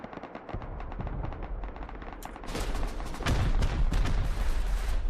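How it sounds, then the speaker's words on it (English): Several rocket launchers fire at once during a junkyard raid event in the game Rust, a dense, rapid barrage of blasts and booms that builds louder and heavier as more rockets go off. "We've got 5 or 6 launchers going at once. There's just rockets flying everywhere."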